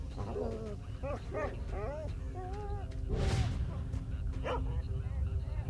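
Mutated dogs in the S.T.A.L.K.E.R.: Shadow of Chernobyl video game give a run of yelping barks and whines. A louder burst follows over a constant rumbling background.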